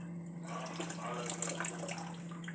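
Tap water poured into a pot for cooking bihon makes a soft, steady splashing rush over a low hum, fairly faint, with a brief louder splash midway.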